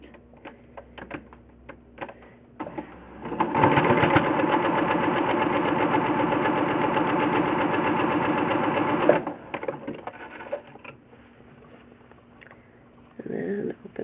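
A sewing machine stitches two quilt squares together in one steady, fast run of about six seconds, with quiet handling clicks before and after.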